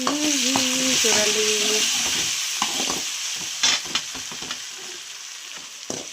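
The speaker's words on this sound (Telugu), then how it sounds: "టమాటాలు కూడా కొంచెం మగ్గాయి." Tomatoes sizzling and softening in a hot pan for a Rayalaseema-style radish pulusu, a steady loud frying hiss with occasional stirring scrapes, while someone speaks briefly over it.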